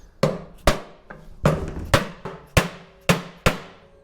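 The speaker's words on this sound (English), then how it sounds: "I suppose I could probably give it some taps with a hammer, couldn't I?" A hammer taps an aluminum body panel on a rotary RX7 drift kart build, eight sharp metallic knocks at an uneven pace, close and fairly loud, each ringing briefly before fading.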